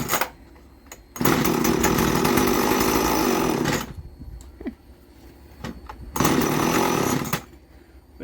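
A repaired Homelite chainsaw engine fires and runs in two loud bursts of buzzing revs, each dropping back to a quieter idle between them, close up and without talk.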